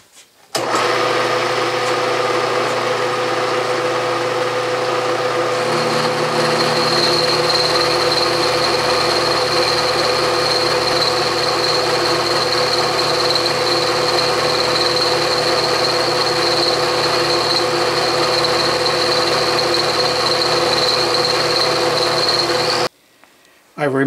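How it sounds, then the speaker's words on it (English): A milling machine climb mills a key for a Kurt AngLock vise, a steady loud mechanical hum with a high whine that holds for about twenty seconds before stopping, with no talk over it. "I will turn the machine on and away I go. And by the way, I am climb milling"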